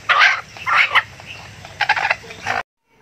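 Native chicks on a backyard farm peep in short high chirping bursts, several clustered calls close by, ending abruptly.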